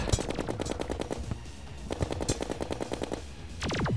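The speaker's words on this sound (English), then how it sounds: "All I see is your bullets flying my way." Rapid bursts of automatic gunfire from the video game Terraria, several quick rattling volleys separated by brief pauses, loud and close with no talk.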